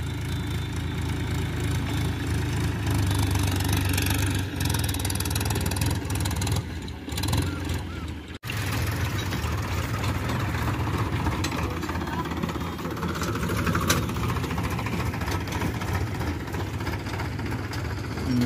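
A Powertrac Euro 50 tractor engine runs continuously in a muddy field, a loud, steady diesel drone with slight revving surges and a short dip partway through.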